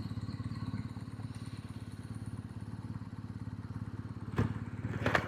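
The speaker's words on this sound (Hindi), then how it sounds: "बाइक आगे ही खड़ी कर देता हूँ आराम से" A motorcycle idles at a crowded roadside spot as it is parked, its engine putting out a steady low throb from close by, with a couple of short clattering thumps near the end.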